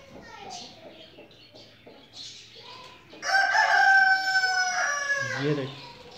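A rooster crows loudly and close by, a long drawn-out call with a shorter follow-up, among hens pecking at scattered grain in a backyard. Softer voices and brief clucks come before it.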